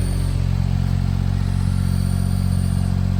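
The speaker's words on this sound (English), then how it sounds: "So yeah, that muffler sounds good." Engine of a scissor-lift dump truck with differential lock runs through a sporty muffler, giving a steady, loud, low throbbing idle with no clear rise in revs.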